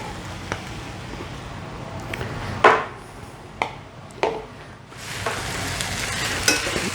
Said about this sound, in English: let this saute for another 5 minutes or so. And cook through our sausages